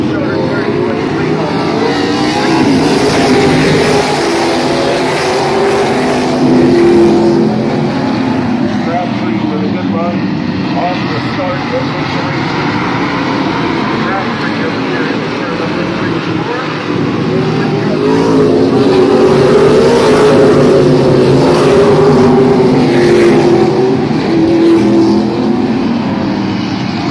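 Super Cup Series stock cars race at Midvale Speedway, their engines roaring loudly and continuously, surging as packs sweep past around the early part and again later in the run.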